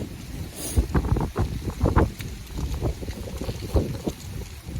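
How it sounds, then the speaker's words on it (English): Wind buffets an outdoor microphone in steady low rumbling gusts with a few louder swells, continuous across the whole moment and fairly close. "Damn, this wind."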